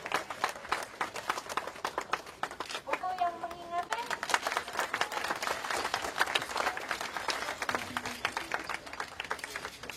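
A crowd claps in sustained, busy applause at a book launch, while a voice speaks briefly partway through.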